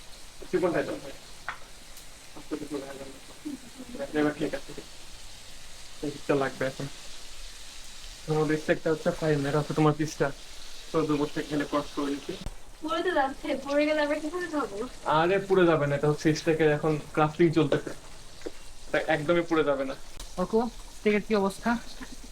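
Steak frying in a pan at home for an Eid party, a steady soft crackling sizzle running beneath almost continuous talking.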